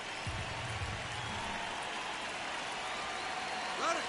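Ambient stadium crowd noise at Dodger Stadium in a baseball video game forms a constant, hissing wash of distant murmur, with a brief low voice-like sound early on.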